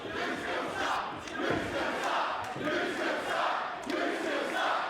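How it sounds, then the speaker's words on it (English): Wrestling crowd in Adelaide at a WSW World Heavyweight Championship match, a dense roar of voices chanting and shouting together in waves, loud and sustained throughout with no single voice standing out. "Near chance of "you still suck" from the Adelaide crowd here."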